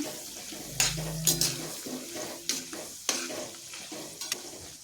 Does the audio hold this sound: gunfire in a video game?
no